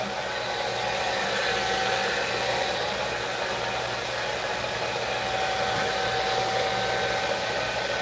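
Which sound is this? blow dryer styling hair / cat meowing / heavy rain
blow dryer styling hair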